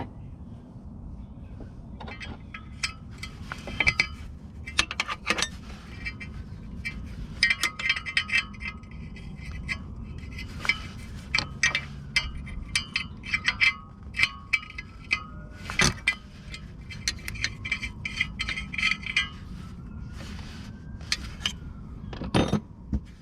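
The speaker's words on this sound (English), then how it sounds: "So we're gonna need to remove that 13mm nut now" Mechanic removing a 13mm nut securing the EGR cooler on a Peugeot 407 2.0 HDI: close metallic clicks and clinks of a ratchet and tools, irregular and sharp against a quiet background, with no talking.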